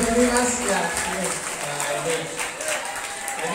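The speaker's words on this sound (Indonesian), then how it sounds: "kita beri tepuk aplaus ya. Aplaus yang meriah." An audience gives lively applause, a steady wash of clapping that runs through the whole moment while a voice speaks over it.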